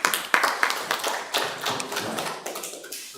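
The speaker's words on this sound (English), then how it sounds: "a round of applause to our club president" Applause from an audience at an innovations club launch event at a university in Mbarara, honoring the club president; a short burst of scattered claps and taps, uneven and fairly close, fading toward the end.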